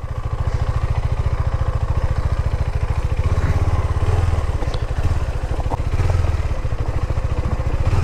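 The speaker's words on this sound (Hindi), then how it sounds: "बिना टायर स्लिप हुए बाइक निकल जा रही है अब तो इजीली।" A KTM Duke 390 motorcycle ridden through mud on a rutted track, its single-cylinder engine chugging steadily and close throughout, with slight rises in revs and no talk.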